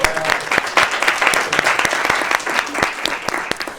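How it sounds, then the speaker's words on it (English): Audience applause during a live talk show, a moderately close crowd clapping with sharp individual claps standing out in a steady patter for a few seconds. "So let's clap for that."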